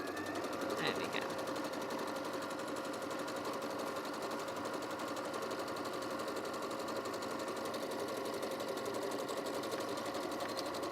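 A sewing machine stitches steadily for about eleven seconds, its fast even needle rhythm holding a constant level, fairly faint, with no pauses.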